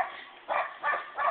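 A dog barks in three short, band-limited bursts at a steady rhythm while chasing imaginary squirrels, each bark fairly loud and close with brief quiet gaps between.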